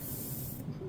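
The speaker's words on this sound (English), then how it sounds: "It's kind of an even sound as I'm rolling it out." A brayer rolls out black printing ink with a brief, even, soft hissing texture close by, steady for under a second.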